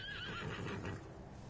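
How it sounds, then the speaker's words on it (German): A horse in the video game Ghost of Tsushima gives a clear, fairly close whinny with a falling pitch, followed by faint hoof clip-clops and game ambience. "Pferd."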